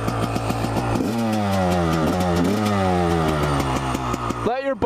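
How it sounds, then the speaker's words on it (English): A Honda CR250 two-stroke dirt bike engine revving loudly and close, its pitch rising and falling through several sharp throttle blips before cutting off near the end. "It came to life. Two strokes, always start."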